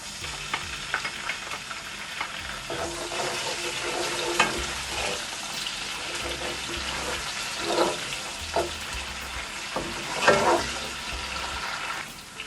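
Ginger garlic paste sizzles and spatters in a hot pan with softened onions, with bursts of stirring and scraping on and off and no voices.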